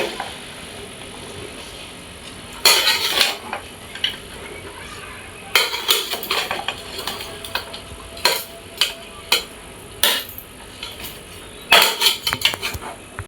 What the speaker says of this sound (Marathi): तर ढवळून घेता.